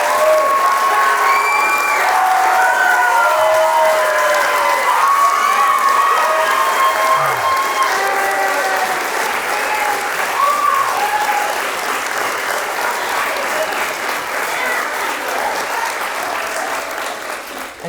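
An audience at a presentation on Chinese students at Andover breaks into sustained applause with cheering and shouts, a steady loud wash of clapping that fades slightly toward the end.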